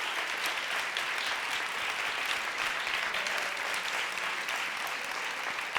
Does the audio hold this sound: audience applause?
yes